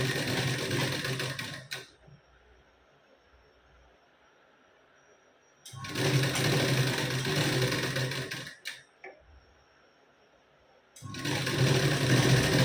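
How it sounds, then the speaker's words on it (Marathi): An electric sewing machine runs in three steady whirring bursts with short silent pauses between them while double-stitching the sleeve seam of a blouse, near and fairly loud, with no voices. "इथे मी आता डबल शिलाई दुसऱ्या बाजूची स्लीव जॉईन करून घेते"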